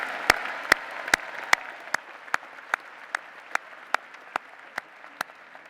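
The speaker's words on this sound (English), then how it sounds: "Let's applaud these candidates from the College of Architecture and Urban Studies." Commencement audience at the Virginia Tech Fall 2016 ceremony applauding degree candidates from the College of Architecture and Urban Studies: steady broad applause with sharp, evenly spaced loud claps or beats cutting through, gradually fading.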